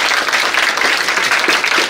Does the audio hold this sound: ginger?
no